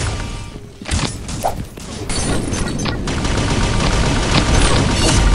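Extremely strong weapon firing in a video game, loud rapid bursts of gunfire with sharp cracks and crashing impacts rolling on almost without pause.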